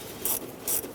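An 8mm hose clamp on the PCV breather hose of a 7.3L Powerstroke engine in a 1999-2007 Ford F-350 is loosened, making two short rasping, ratcheting bursts close up over a steady background hum.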